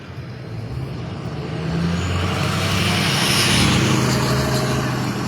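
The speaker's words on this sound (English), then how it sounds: "Noisy truck going by." A noisy truck rolls past at night near a river in Lockport, a steady broadband engine and tire roar that swells gradually and stays loud and close to the end.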